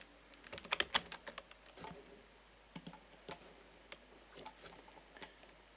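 Soft keystrokes tap on a computer keyboard in a quiet room, in irregular small bursts as a folder name is typed into a software field. A clearer cluster of presses comes near the start.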